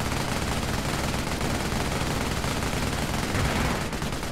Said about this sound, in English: the MG has already pinned down and suppressed my own guys